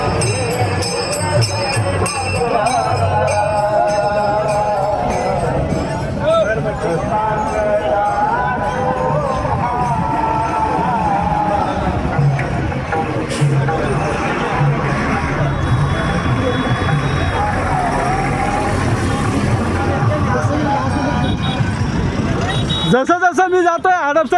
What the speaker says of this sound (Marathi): जसं जसं आपण हडपसरकडे जातोय तसं तसं गर्दी ही वाढतच चाललेली आहे